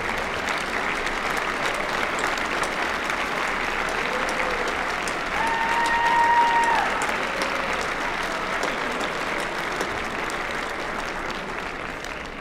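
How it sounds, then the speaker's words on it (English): Sustained applause from a sizable audience, swelling briefly in the middle before easing off slightly toward the end. "let's give them a huge applause for the work they did"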